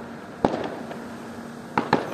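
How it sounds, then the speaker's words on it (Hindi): Firecrackers go off around a wedding celebration in Delhi: one sharp bang, then two more in quick succession a little over a second later, moderately distant against a steady low background hum. "फटाके।"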